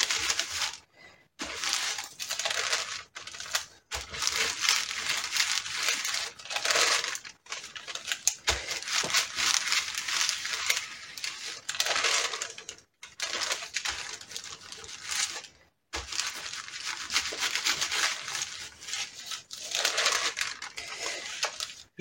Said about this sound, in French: Je vais venir repositionner mon papier sulfurisé et je vais venir repasser un petit peu le fer à